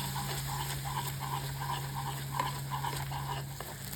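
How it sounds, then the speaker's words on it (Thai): Curry paste and coconut milk stir-fry in a pan for a Thai coconut curry noodle sauce, a soft steady sizzle with faint rhythmic scraping strokes beneath a constant low hum. "มันเริ่มแห้งเราก็เติมกะทิเข้าไปอีก แล้วก็ผัดต่อนะคะ"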